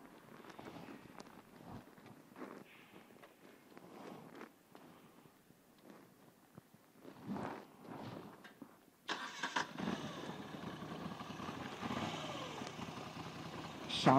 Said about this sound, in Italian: adesso ve la faccio sentire da accesa